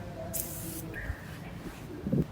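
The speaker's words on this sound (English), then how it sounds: "You start off with either spraying on the cloth or you can just apply on the seat like this." A short hiss of leather cleaner sprayed up close onto a car seat, followed by quiet rubbing and handling noises in a calm room.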